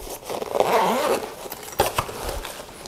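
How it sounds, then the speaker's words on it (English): A zipper on the back panel of a Greenroom136 Northseeker 20L backpack is pulled open in one steady close rasp lasting about a second, followed by a few soft handling clicks. "again, with this back zipper,"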